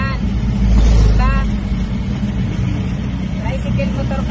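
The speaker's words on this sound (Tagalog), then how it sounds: "Rides, rides sa tricycle motor." A motorized tricycle rides along with its engine running, a steady low rumble that swells briefly near the start, while voices talk and call out over it in the open air.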